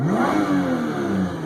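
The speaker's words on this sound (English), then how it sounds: "Of course, the engine revs just fine." A 2012 Lotus Evora, a repairable salvage car, revs its engine in one close, loud rising-and-falling sweep with no talk over it.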